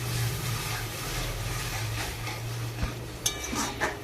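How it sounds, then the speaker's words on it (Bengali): A spoon stirring curry in a pan after whisked sour yogurt goes in, soft scraping over a steady low sizzle, close and continuous, with a few light clinks of utensil against the pan near the end. "তারপরে দই দিয়ে আবারও নাড়াচাড়া করে নিচ্ছি।"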